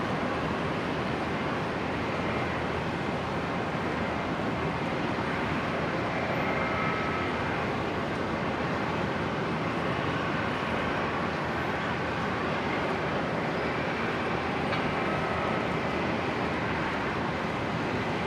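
Link Airways Saab turboprop arriving from Wollongong at Brisbane airport, a steady, loud broadband roar of engine and air rushing that holds for the whole stretch without letup or voices.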